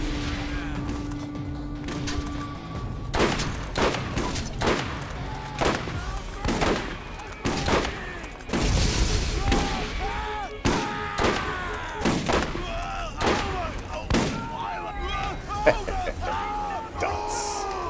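Rocket charges fired repeatedly in the video game Borderlands, a rapid series of loud blasts and booming impacts with ringing tails, while players talk over the action.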